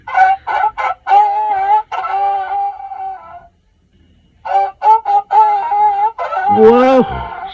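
A rooster crows in a series of loud, close, drawn-out calls, with a pause in the middle, before a human voice imitates the crowing at the end.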